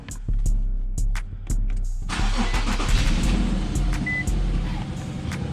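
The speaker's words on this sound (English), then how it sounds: "I'm gonna get in and start the car" A 2014 Infiniti Q50 starts up after a few sharp clicks and thumps, its engine catching abruptly and settling into a steady, close-up idle rumble with no talking.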